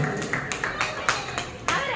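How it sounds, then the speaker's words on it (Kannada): A small group at a home 25th wedding anniversary celebration claps for the couple, a few uneven bursts of hand claps heard fairly close, with voices around them. "ಗಟ್ಟಿ ಚಪ್ಪಾಳೆ ಕೊಡ್ಲಿ"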